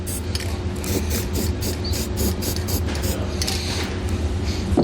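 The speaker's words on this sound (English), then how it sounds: "We're going to spray it down with some paint" A series of short hissing bursts from a spray paint can, repeated in quick pulses, over a low mechanical hum and faint background noise.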